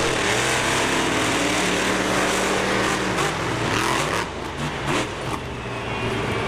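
A monster truck engine roars loud and steady at close range while racing at Bristol Motor Speedway, with the pitch wavering and dipping slightly toward the end.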